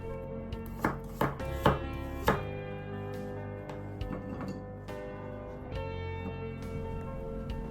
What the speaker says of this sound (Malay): Bawang ni kita potong kasar supaya mudah kita kisar halus nanti